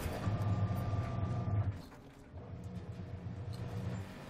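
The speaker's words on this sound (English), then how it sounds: "I think there's something wrong with the washer again." A malfunctioning washing machine gives off a loud, steady mechanical rumble and grinding for the first second and a half, then drops to a quieter, uneven churning clatter that continues to the end.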